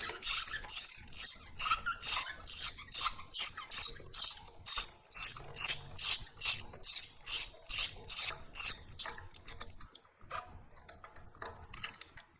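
A ratchet turns a spark plug socket to loosen a plug from a Toyota Camry engine, giving a quick run of regular, raspy clicks that stop near the end, close and clear, with no talking.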